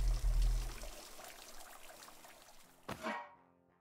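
Water streaming into a brewing pot in the beer-brewing simulator Brewmaster, a steady soft pouring hiss that fades, then a short splashy gush before it cuts off.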